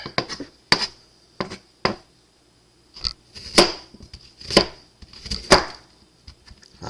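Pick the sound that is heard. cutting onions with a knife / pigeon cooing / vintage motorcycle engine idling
cutting onions with a knife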